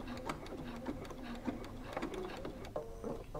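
A dual feed sewing machine stitches through a bulky cork wallet in short, rapid bursts of mechanical ticking and whirring, heard close and fairly quiet, with brief pauses between runs.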